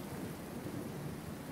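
Rain pours and thunder rumbles in the survival video game Dead in Vinland, a dense, even storm wash with low rolling thunder underneath, steady and fairly faint, no talking.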